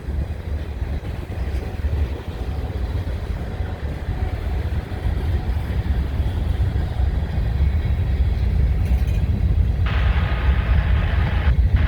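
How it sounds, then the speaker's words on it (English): Loose-sprung empty grain hopper car with a bad wheel bearing rolling past a road crossing, a loud steady rumble and rattle of wheels on rail throughout, with a brighter grinding hiss rising near the end. "sounds like a bad bearing in that car"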